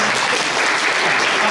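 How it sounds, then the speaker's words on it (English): Audience applause fills the room at a vegan advocacy event, a dense, steady clatter of many hands clapping at close range with no talk over it. "You can clap for them if you'd like to clap."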